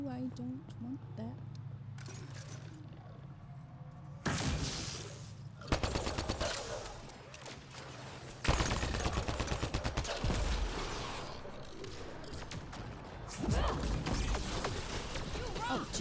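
Enemy gunfire in the Mass Effect Andromeda video game, with loud bursts of rapid shooting and laser-like blasts that come and go across several seconds, dense and close, mixed with game sound effects.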